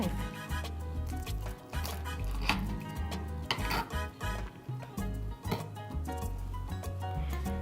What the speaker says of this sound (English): We are going to cut this in half and just watch